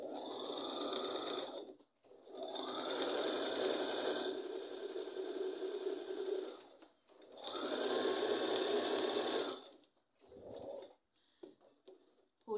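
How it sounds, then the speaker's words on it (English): A sewing machine stitching a seam on a reversible bonnet made without elastic runs in close, steady bursts: a long run, a brief stop, another long run, then a short final burst before it falls quiet. "sew the 5 inches down and the other 5 inches as well"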